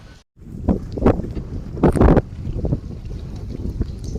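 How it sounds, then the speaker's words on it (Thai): Wind gusts rumble across the microphone during a boat ride on water near a temple, rising and falling in loud buffeting waves that peak around the middle of the ride. "ลมพัดเย็นดีมากนะครับ ลมพัด"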